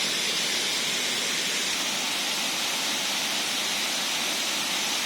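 Fourth tier of Huai Mae Khamin waterfall in Srinagarind Dam National Park, Kanchanaburi, a steady, loud, hissing roar of falling water throughout, with no voices.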